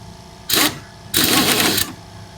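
A pneumatic impact wrench is fired twice, close and loud: a short rattling blip and then a longer burst of rapid hammering lasting under a second, each ending abruptly, with quiet in between.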